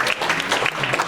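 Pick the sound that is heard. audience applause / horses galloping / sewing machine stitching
audience applause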